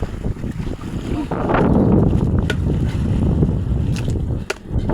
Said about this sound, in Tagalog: Dito kami ngayon sa laot guys.